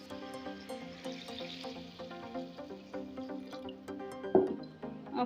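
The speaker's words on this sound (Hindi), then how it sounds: "तो मैं इसमें पानी शामिल कर रही हूँ" Water is poured into a cooking pot of aloo gosht, a soft, faint trickle and fill beneath background music, ending in a brief splash.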